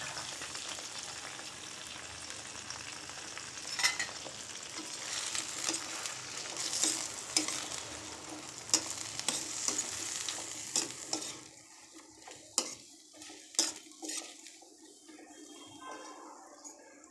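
Brinjal pieces stirred in a frying pan for a dry vankaya curry, a steady oily sizzle with scraping strokes of the spoon, loud at first, then quieter and broken after about eleven seconds, with no talk.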